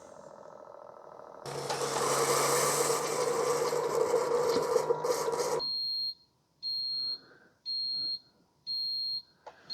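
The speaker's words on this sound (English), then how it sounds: "So it does beep at you and it says the word end when the coffee's ready" A Ninja DualBrew Pro CFP301 coffee maker runs with a loud grinding, rasping noise for several seconds, then stops, followed by four evenly spaced high-pitched electronic beeps as the brew finishes.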